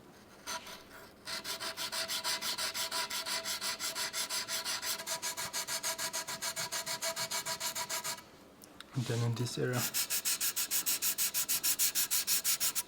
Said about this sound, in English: I always change the sanding direction so I get a flat area